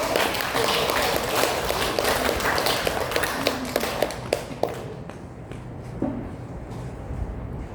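A church congregation at a Taiwanese Presbyterian communion service claps to welcome three sisters, a dense burst of many hands that thins into scattered claps and fades.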